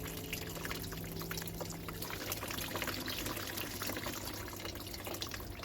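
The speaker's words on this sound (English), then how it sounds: "the last thing this now needs is a bit of watering" Water pours steadily into a bonsai pot of well-draining soil, a continuous soft splashing trickle heard up close with no talk.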